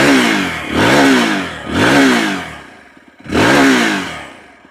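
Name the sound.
TVS Apache RTX300 motorcycle engine revving to 5000 RPM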